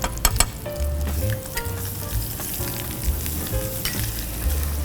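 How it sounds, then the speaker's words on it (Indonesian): Minced garlic sizzles steadily in hot oil in a pan in a hotel kitchen, a continuous frying hiss with occasional clinks and stirring scrapes and no voices. "Jadi untuk menumis, kalau dia bawang putih kurang matang, dia akan menjadi langu ya."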